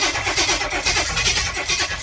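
A 1955 Chevy big block V8 roars to life on heavy throttle, a dense, loud, steady engine rumble with a rough, uneven throb running through the whole stretch.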